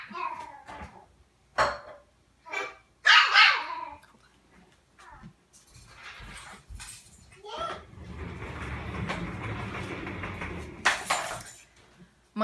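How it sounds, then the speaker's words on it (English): Pet dogs in a home kitchen bark and whimper in short bursts, close by and moderately loud, while someone talks over them. "My dogs were letting me know that the baby was skipping across the kitchen floor."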